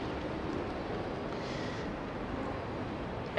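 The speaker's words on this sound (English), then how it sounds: "Sorry for the wind noise, just very windy today." Steady, loud wind buffeting a microphone on a very windy day during a street walk near Sapporo Station, a continuous broadband rumble with no talk.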